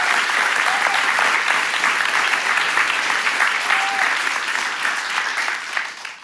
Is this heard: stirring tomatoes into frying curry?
no